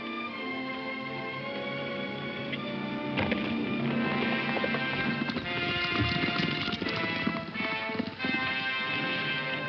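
Horses gallop in a 1937 western serial, a dense, continuous run of hoofbeats that grows louder and busier midway, heard with a background music score and no talk.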